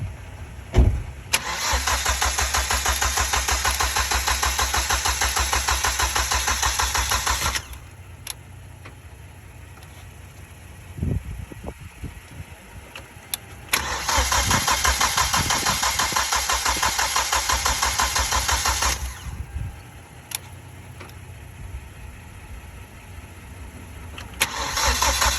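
Big-turbo Hyundai Genesis Coupe with a custom fuel return system, revving loud and close in two long sustained bursts of engine roar, with lower idling and mechanical ticking between them and no talk.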